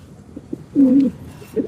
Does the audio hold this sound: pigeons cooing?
yes